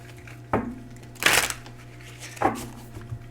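An Illuminated Star Tarot deck is shuffled close by in three separate riffling bursts, each a brief papery flutter, with quiet pauses between them.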